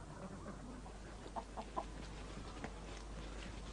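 Chickens kept on a permaculture homestead cluck softly in a few short bursts against a quiet outdoor background.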